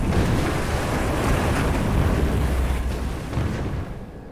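Rumbling, continuous explosions and booming from a naval battle in Hearts of Iron 4, Soviet warships attacking a Turkish fleet; dense low roar stays loud throughout and eases slightly near the end.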